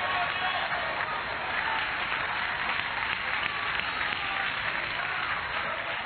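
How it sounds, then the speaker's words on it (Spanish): A church congregation applauds steadily, a dense wash of many hands clapping at once, sustained and even for several seconds without pause. "¿Cuántos le dan un aplauso a Cristo en el día de hoy?"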